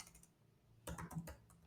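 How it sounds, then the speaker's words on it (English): Quiet computer keyboard typing begins after a brief silence, a quick burst of clicky keystrokes close by, with no talking. "So I can start typing it here"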